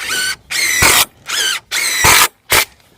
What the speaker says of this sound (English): then I'm running structural screws